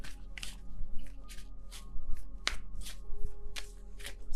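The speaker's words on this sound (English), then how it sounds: "I don't know why I want to shuffle so much, but I feel like it." Tarot cards being shuffled, with repeated soft riffling bursts at a steady rhythm over a low constant hum, close and moderately quiet, no speech.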